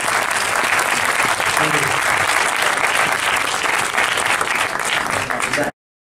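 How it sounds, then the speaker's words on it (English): Loud, dense applause from a cinema audience after an Occupation screening at Event Cinemas in the Myer Centre, sustained steadily for about six seconds before cutting off abruptly. "have a huge round of applause for them"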